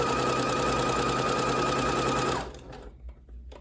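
A sewing machine runs steadily, stitching across a fabric scrunchie with its filling tucked inside; the loud, even whir continues for about two and a half seconds, then stops, leaving faint handling noises.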